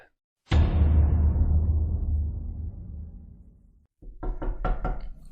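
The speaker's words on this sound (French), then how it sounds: "T'as entendu ça? Ça a toqué?" A door is knocked on in Minecraft DarkRP: a loud, boomy thud rings out and decays slowly, then a quick burst of four or five sharp knocks follows near the end, with no speech.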